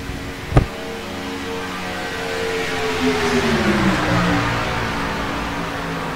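Race cars in a Grand National Series event at Talladega roar past through the turns, a broad sustained engine drone that shifts downward in pitch as the pack passes, after a brief sharp knock at the start.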